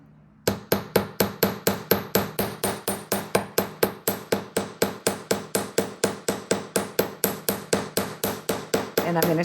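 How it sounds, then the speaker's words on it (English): Thick wire hammered on a hammering block for jewelry, a fast steady run of around forty sharp metallic taps, close and loud, evenly spaced without pause. "And I'm going to start hammering from the bottom."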